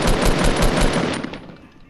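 A loud, fast burst of automatic gunfire in Fortnite, rapid evenly spaced shots that ring out and then fade away, with no talking.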